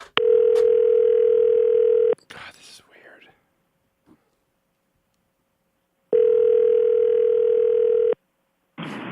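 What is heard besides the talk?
telephone call tone while calling a number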